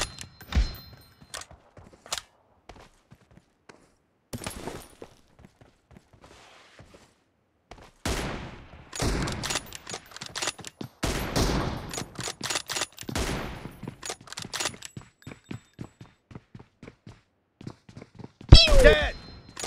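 Gunfire from an M24 bolt-action sniper rifle in a PUBG Mobile team deathmatch, heard as bursts of sharp shots scattered across the clip, with game sounds and footsteps between them and a loud crack near the end.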